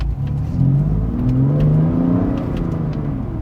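BMW M2 engine and exhaust pulling under acceleration, a smooth rising then settling drone with a fairly quiet exhaust note heard from inside the car.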